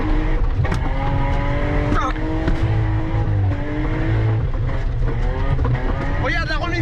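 A car drives along a road, its engine droning loud and close with rising and falling whine, while voices talk over it.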